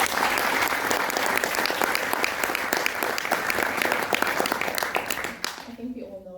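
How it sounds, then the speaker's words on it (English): A graduation ceremony audience applauds for Léna at Radboud University, with dense, steady clapping that carries on for several seconds and then drops off abruptly, after which a voice begins. "Give a warm applause for Léna."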